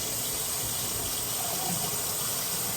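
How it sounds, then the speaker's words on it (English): Cold water runs steadily from a kitchen tap during mac and cheese cooking, a constant close rushing hiss with no pauses. "let me have the cold water on"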